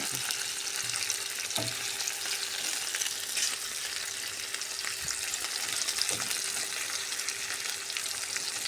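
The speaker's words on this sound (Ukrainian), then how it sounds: "я не смажу м'ясо, я смажу цибулю" Onions sizzle steadily in a hot pan, a continuous close crackle with an occasional soft clink of a utensil.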